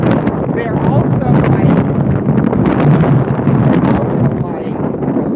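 Strong outdoor wind buffets a microphone with a loud, constant low rumble that lasts the whole stretch, while a person keeps talking.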